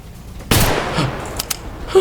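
A robot firing in the video game Wasteland: a sharp loud blast followed by a couple of quicker, fainter shots and a brief clicking tail.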